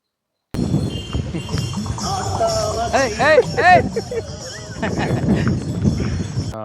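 Horses clip-clop with steady hoofbeats while pulling a cart on a horse farm near Kattumannarkoil, with whinny-like calls in the middle. The sound is loud and close and runs throughout, over continuous background noise.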